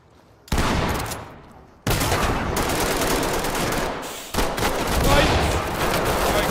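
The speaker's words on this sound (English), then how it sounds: "Breach with shotgun and flashbang." A shotgun door breach and flashbangs in the tactical shooter Ready or Not: a few abrupt, very loud blasts, each followed by a long roaring wash of noise.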